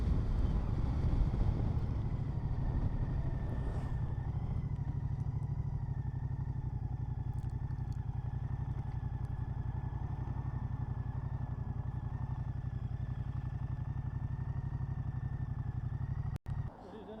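The engine of a 2024 Moto Guzzi V100 Mandello S motorcycle while it is ridden, a steady low drone under heavy wind buffeting, continuous and fairly close, with a brief dropout near the end.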